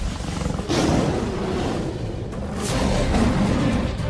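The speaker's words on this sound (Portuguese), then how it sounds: "O rugido de um leão não é apenas ouvido, ele é sentido também." A lion roars in a wildlife documentary, a deep, rumbling, sustained roar that swells loudly and fills the whole stretch, rising again toward the end with no voices over it.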